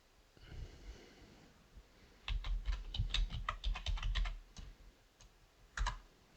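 An effect being renamed by typing on a computer keyboard: a run of crisp key clicks over steady low room hum and faint breathing, with a few final isolated taps.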